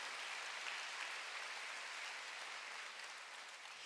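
A church congregation applauds steadily at a distance, a dense wash of clapping that holds level for several seconds and tapers only slightly at the end.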